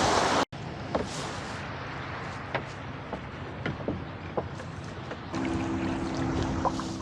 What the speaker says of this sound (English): Time to paddle north along the shore out to the west beach of Blake Island.